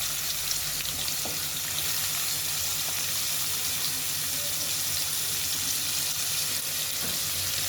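Steady, dense sizzling of salted, chopped potatoes frying in hot oil, continuous and close, with occasional soft clinks and no talking.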